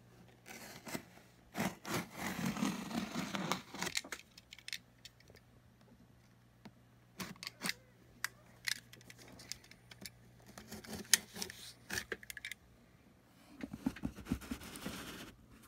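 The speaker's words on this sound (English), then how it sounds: "Excuse the knife, as we are going to cut this box open." A knife slices through a cardboard shipping box holding a System76 Kudu laptop, heard as bursts of scraping, sawing strokes between quiet pauses, with a steady low hum underneath and no voices.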